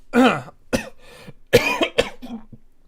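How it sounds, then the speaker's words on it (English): A person coughs several times in two clusters, harsh and close, with brief pauses and a softer throaty tail at the end. "I've developed a cough."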